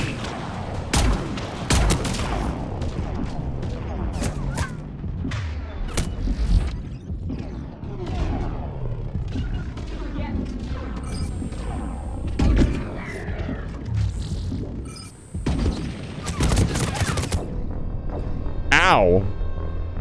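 Deadlock weapons fire in scattered shots and short volleys with thuds and impacts, heard over about twenty seconds of game action. A person talks over much of it.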